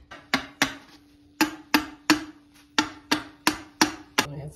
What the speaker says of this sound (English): those are gonna need to get hammered down.